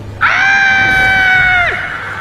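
A single long, loud, high-pitched scream rings out alone for about a second and a half, then cuts off sharply against a quiet background.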